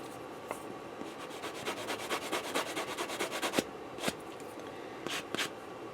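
Rhythmic scratchy rubbing of a 3M sanding sponge against a plastic Gundam HGBF Amazing Red Warrior model part, close and quiet, a steady run of short strokes followed by a few sharper separate scrapes.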